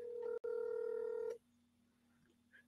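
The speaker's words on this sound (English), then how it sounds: "I'm going to make a phone call to one of our brothers" Telephone keypad tones sound as a phone call is placed during a live stream: a short tone, a brief gap, then a long steady tone that stops abruptly, leaving faint background hum.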